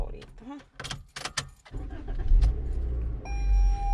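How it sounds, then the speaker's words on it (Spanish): A car engine cranks and catches after some nearby movement and a jingle of keys, then settles into a steady low idle that holds to the end. "Ahí voy a encender el carro"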